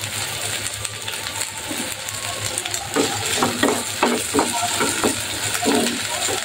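Shrimp sizzle and fry in a pan, a constant hiss under intermittent metallic scrapes and clinks of a utensil stirring, fairly close and moderately loud.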